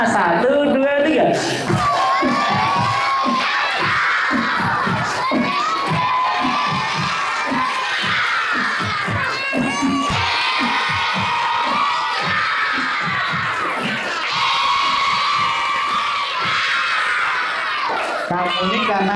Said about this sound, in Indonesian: Tepuk tangan sambil teriak